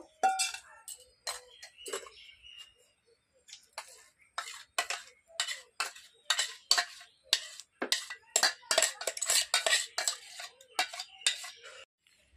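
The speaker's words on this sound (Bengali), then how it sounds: "এবার আমি এই বাটির মধ্যে ঢেলে নেব" Mung dal and semolina paste goes from a mixer jar into a bowl: a close series of sharp spoon clinks and taps against the container, scattered at first and then quickening into a busy run.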